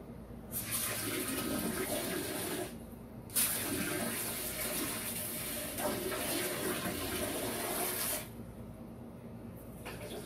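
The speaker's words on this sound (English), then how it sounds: "Bring you guys up so we can see that sprayer in action." A KAIYING handheld bidet sprayer shoots a steady hiss of water in several bursts, with brief pauses in between as the spray stops and starts again, close and fairly loud.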